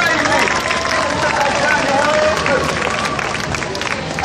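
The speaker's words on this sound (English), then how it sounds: "Give him a big clap, he was amazing!" Outdoor street performance crowd in Surfers applauding and cheering, a steady wash of clapping mixed with loud crowd chatter and voices throughout.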